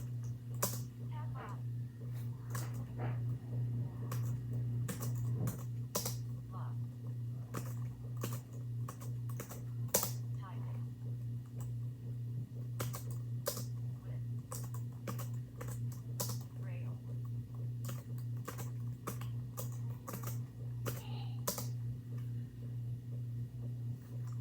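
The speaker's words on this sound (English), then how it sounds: "So I'm gonna start typing." Keys on a Mantis braille keyboard paired with an iOS device click in quick, irregular taps, soft and close, over a steady low electrical hum.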